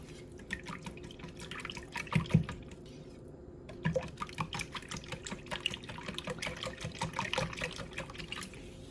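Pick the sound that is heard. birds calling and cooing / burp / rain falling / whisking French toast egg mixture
whisking French toast egg mixture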